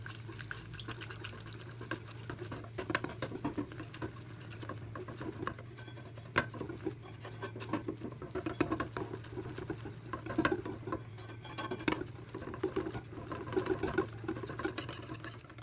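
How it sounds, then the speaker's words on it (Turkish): Sifted soufflé ingredients, flour among them, being stirred together in a bowl, a soft continuous scraping and patter with occasional light clicks against the bowl, faint and close, with no talking. "Malzemelerimizi eledikten sonra güzelce karıştırıyoruz."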